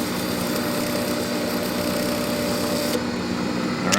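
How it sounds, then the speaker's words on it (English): A blade being sharpened on a powered grinder, throwing sparks, with a steady high motor whine and a continuous grinding hiss, close and loud. The grinding cuts out near the end while the motor keeps running. "So let's see maybe a minute of sharpening what that does. I'm throwing a lot of sparks here."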